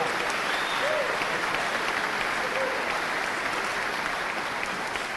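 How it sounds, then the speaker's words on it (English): A concert audience at a county band performance applauds the band, sustained even clapping from a sizable crowd at moderate distance, with no voices over it. "Give them another round of applause."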